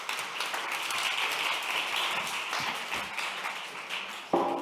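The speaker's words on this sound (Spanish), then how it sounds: "Un aplauso." Steady applause from an audience, a dense wash of many hands clapping for several seconds at even volume, ending with a louder thump.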